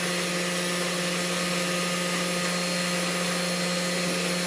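Small DIY CNC spindle motor running steadily, a constant close whine and hum with no pauses or talk.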